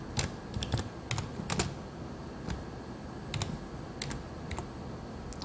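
Computer keyboard typing in short bursts of crisp key clicks, a group name being entered into a reference-manager dialog box, close and alone against a quiet background hum.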